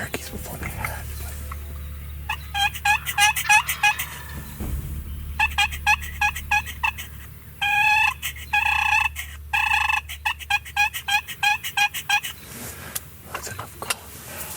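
A wild turkey gobbling near its roost, repeated gobbles and clucks ringing out at middle distance over a low outdoor rumble, with occasional quiet human sounds in between.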